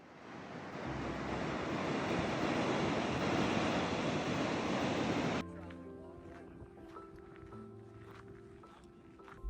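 Dettifoss waterfall in Iceland thunders as a loud, dense, continuous roar for about five seconds, then cuts abruptly to a much quieter scene with people talking.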